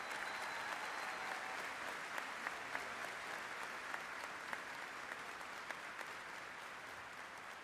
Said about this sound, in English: let's give them a big round of applause and congratulations.